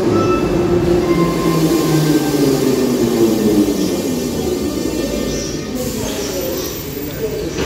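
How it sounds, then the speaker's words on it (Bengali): A Tbilisi metro train races through a tunnel at high speed with a loud, sustained rumbling roar and rail whine that eases slightly toward the end, as a voice talks over it. "বাট এদের মেট্রোটা চলে ম্যাসিভ স্পিডে, আর এসকালেটারও চলে খুব স্পিডে, মেট্রো চলে খুব স্পিডে"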